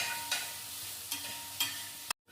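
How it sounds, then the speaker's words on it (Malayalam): Chopped plantain stirred in a pan with ghee and coconut pieces while making koova payasam; a faint sizzle with three soft spoon scrapes, ending abruptly. "ഈ ഏത്തക്കായും കൂടെ നുറുക്കിയത് കൂടെ ഒന്നിട്ട് ഇളക്കാട്ടോ"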